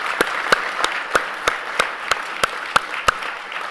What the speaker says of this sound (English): Another round of applause to the incredible Tourism WA team.